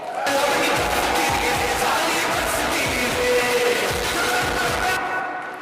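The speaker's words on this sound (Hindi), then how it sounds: "मैं चाहती हूँ सिस्टम के लिए धमाकेदार जोरदार ताली होना चाहिए" An audience bursts into strong, dense applause that holds steady and close for several seconds before cutting off abruptly.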